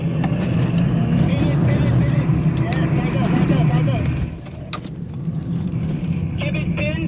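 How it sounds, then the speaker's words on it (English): A BMW E39 holds its engine at full throttle while drifting, a loud steady roar that dips briefly partway through. Someone talks over it. "Turn and full throttle, full throttle."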